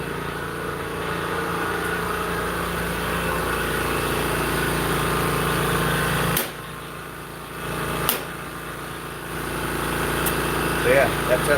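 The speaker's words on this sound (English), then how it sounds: "I'm right by the compressor, turning things off" An air compressor runs in a laser workshop used for cutting and engraving acrylic, a steady close engine-like drone that drops out abruptly partway through, then starts up again and carries on.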